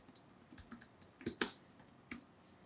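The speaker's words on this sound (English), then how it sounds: "So I'm gonna type RAFC again." Someone types on a computer keyboard with a quick, uneven run of soft key clicks. Three or four sharper strokes stand out near the middle. The sound is close and quiet, with no speech.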